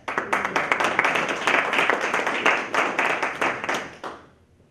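A crowd applauds steadily, dense clapping holding for about four seconds before tapering off to quiet.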